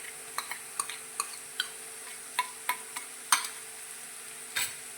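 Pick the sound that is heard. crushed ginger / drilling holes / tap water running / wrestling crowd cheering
crushed ginger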